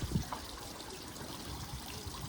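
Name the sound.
water trickling in garden water features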